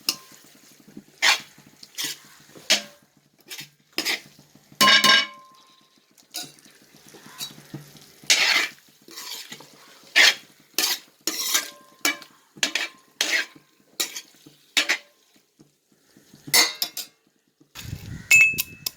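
Prawn biryani masala being sautéed in a pan, a spoon scraping and knocking against the metal in repeated bursts of stirring with short pauses between, close and alone.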